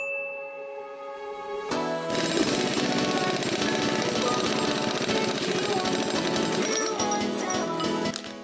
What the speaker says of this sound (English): After removing the giant 54mm nut that secures the flywheel